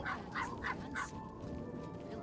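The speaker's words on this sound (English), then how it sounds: "It's barking and everything." A dog barks in the game Oblivion, four quick barks in a row, moderately loud over a steady hum of ambient game sound.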